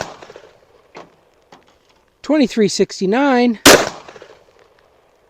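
A 5.7x28 LC carbine fires a handloaded round, likely a 32-grain bullet, as one sharp, loud, close crack right after someone speaks, with a few faint clicks earlier.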